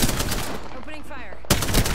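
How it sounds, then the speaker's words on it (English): Automatic gunfire in Apex Legends: dense, loud rapid shots fill the start, a short break with game sounds and a voice, then another heavy burst of fire to the end. "Opening fire."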